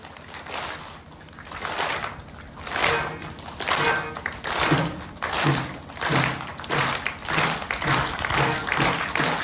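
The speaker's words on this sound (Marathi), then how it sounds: "आणि माझ्या या पद्धतीनं टाळी वाजली पाहिजे का?" A kirtan audience claps together in a steady rhythm, loud and close, with the beat carrying evenly through the whole stretch and no voices on top.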